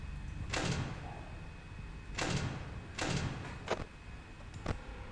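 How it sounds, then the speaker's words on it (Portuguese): Knocking on a door in the video game Ultimate Custom Night: several dull thuds in irregular spacing, two pairs and a few lighter taps, fairly quiet over a low background hum. "Ele bateu na porta, beleza."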